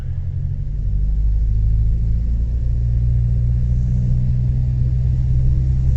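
Small airplane engine run-up to 2,000 RPM heard from inside the cabin, a loud, steady low rumble and drone held evenly throughout.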